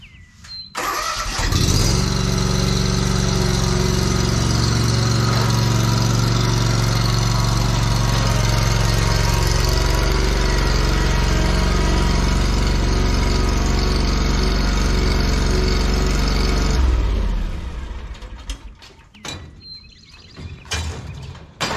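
A small lawn mower engine runs loud and steady for about fifteen seconds while it is loaded into the bed of a 1989 Chevy K1500 pickup, then cuts off, leaving faint clatter.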